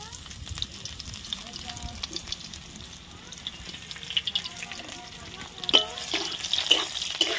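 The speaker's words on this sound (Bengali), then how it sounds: "তেলটা গরম হয়ে গেছে, পেঁয়াজটা আমরা দিয়ে দেবো।" Onion sizzling and frying in hot oil in a wok-style pan, a steady crackling hiss with sharper spattering bursts toward the end, close and moderately loud.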